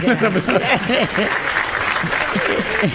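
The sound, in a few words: audience applause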